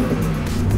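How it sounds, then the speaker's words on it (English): A Ford F150 pickup with a Borla exhaust pulls away with a deep, loud rumbling exhaust note, close and steady for a brief moment. "take it for a little spin on the road"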